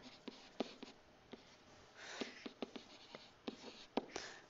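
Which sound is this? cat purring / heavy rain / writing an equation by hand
writing an equation by hand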